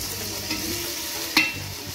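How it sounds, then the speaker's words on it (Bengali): Tomatoes dropped into frying spices in a pan for khichuri, with a continuous sizzle, a soft thump as they go in and a sharper clink of the utensil near the end. "এবার আমি টমেটো এগুলো দিয়ে দেবো।"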